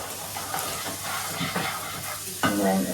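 Onions frying in a pan over medium heat give a steady sizzle, with spoon scrapes and stirring knocks and a louder clatter near the end.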